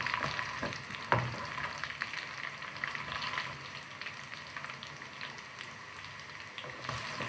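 Garlic sizzles and crackles in hot oil with softened onions for an Egyptian bessara, a steady frying hiss with occasional stirring scrapes and no talking.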